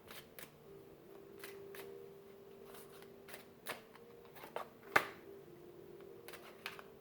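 Thick Moonology oracle cards that stick together being shuffled and pulled: soft papery riffles and flicks with a few sharper snaps, close and quiet over a faint steady hum.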